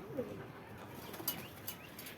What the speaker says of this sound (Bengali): কবুতরগুলো চলে আসছে দেখেন একটা একটা করে